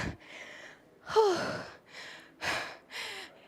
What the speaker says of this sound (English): If you are breathing as hard as me, it's normal.